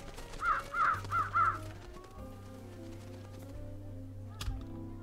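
Crows caw in the video game Trüberbrook, four quick harsh calls in a tight burst up front, followed by a steady low hum and a faint click.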